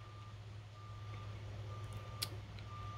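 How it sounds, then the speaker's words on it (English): Faint reversal beeps from a truck backing up outside, thin evenly spaced tones heard at a distance over a steady low indoor hum. "I know some truck outside is backing up."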